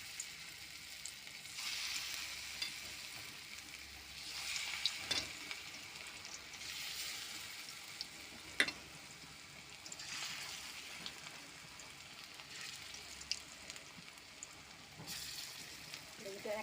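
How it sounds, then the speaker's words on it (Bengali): Small onion fritters (peyaji) fry in very hot mustard oil, a faint, continuous sizzle with occasional louder spits and bursts of bubbling heard from a distance. "যে পটল ভাজাতে তেল আছে, সরষের তেল, আর তেল যেমন ওই তেলেই পেঁয়াজিটা ভাজবো।"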